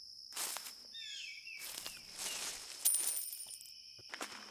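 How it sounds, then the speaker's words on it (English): Crickets chirp in a calm, quiet scene in the video game Walden, with steady high trills and soft footstep-like rustles repeating in short bursts, no talking. "The crickets have started singing."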